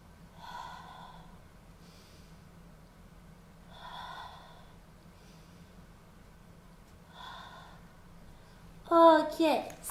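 Three soft, evenly spaced exhaled breaths during a kneeling floor exercise, each a short airy puff over a low steady hum, with a brief voice at the very end.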